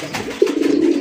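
An agitated male fancy racer golla pigeon gives a throaty coo, a single rising call swelling after a brief pause, close and clear.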